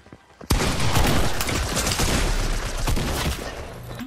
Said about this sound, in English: Use your shotgun now.